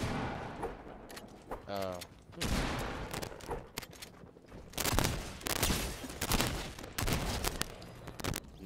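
Rapid gunfire from the Ignition gun in the Fortnite video game, bursts of shots repeating close and loud amid game noise, with players talking over it.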